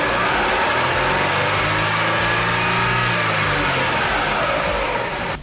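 A car engine is revved during a fuel pressure test, rising and falling in pitch across a few seconds before settling. It is loud and close, with no talking.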